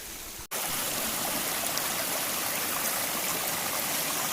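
A small countryside stream flows steadily and close by, with a full, constant rush of water that starts abruptly after a brief moment of quiet.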